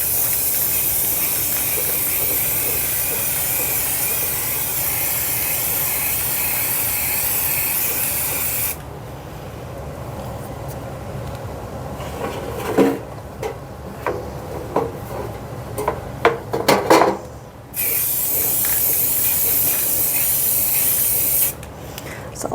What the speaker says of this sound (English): I'm going to lay this down and spray this like this.